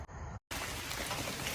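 Hurricane Ida rain pouring down over East Tennessee as a dense, steady hiss, broken by a brief dropout near the start.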